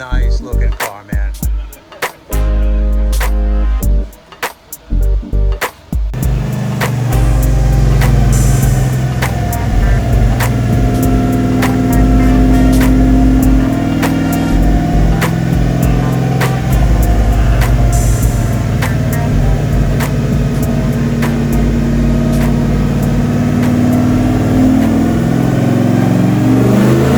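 A Factory Five 427 Shelby Cobra with a stroked 427-cubic-inch Windsor V8 revs on a dyno, starting with choppy blips, then settling into a long, loud, sustained high-rpm roar with rising engine pitch.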